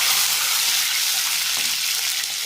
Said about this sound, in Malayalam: അതിൻ്റെ പകുതി വെള്ളം ഇതിനകത്ത് ഒഴിക്കുക